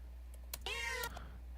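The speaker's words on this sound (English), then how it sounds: "It sounds like a fucking meow synth with distortion on it." A single short, bright meow with a buzzy, synthetic edge, heard alone over a low steady hum and a few faint clicks.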